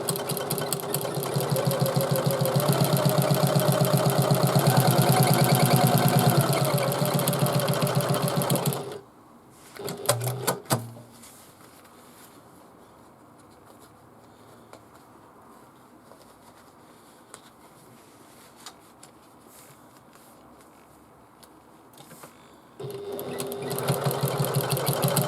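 A sewing machine runs steadily while stitching a Shamballa bag, stops with a few clicks and handling noises, falls quiet for a long stretch, then starts again near the end.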